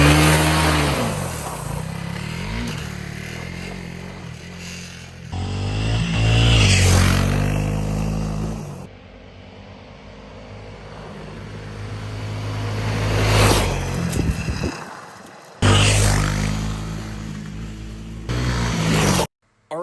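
A Honda CRF300L Rally motorcycle rides dirt trails off-road, its engine rising and falling through repeated revs and throttle changes, with brief drops between surges; wind and riding noise stay constant underneath.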